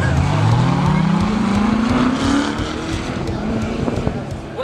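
Corvette C7 Stingray driven hard, its engine note climbing steadily as it accelerates, loud and close with a continuous roar and some tire noise throughout.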